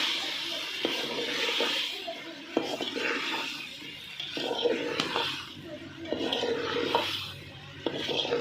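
Red chilli powder and other spices cook in a pan for spicy aloo ki katli, making a continuous hissing sizzle with soft stirring, while someone talks over it.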